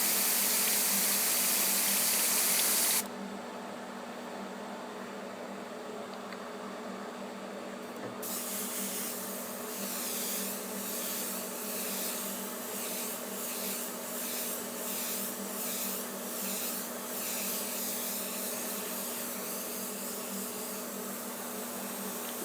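An airbrush sprays yellow paint onto a wooden surface with a steady, close hiss. A louder burst opens the passage, then a quieter, continuous airflow follows with soft pulsing variations throughout.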